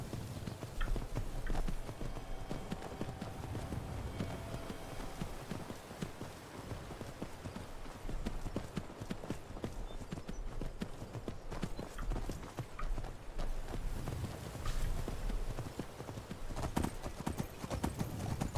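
Horse hooves clip-clop steadily in a rhythmic trotting pattern in Skyrim, an Elder Scrolls video game, fairly close and continuous over a long stretch with faint ambient game sounds behind.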